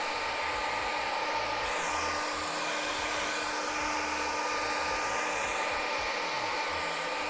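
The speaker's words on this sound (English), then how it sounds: "And then let me blow dry this real fast." A hair dryer blows steadily to dry paint on a custom painted hoodie, making a continuous close whooshing hum with slight shifts as it moves.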